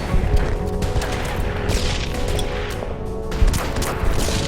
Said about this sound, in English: Artillery over here on the Americans.